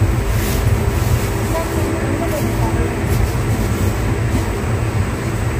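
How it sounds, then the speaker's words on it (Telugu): A train pulls out of Dharmaram railway station in a loud, steady rumble of rolling wagons that continues throughout, with voices mixed into the noise. "ట్రైన్ బయలుదేరింది"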